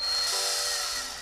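A drill in an early-access car repair video game, a loud steady high-pitched whine that shifts pitch briefly and then runs on, slowly fading over about a second.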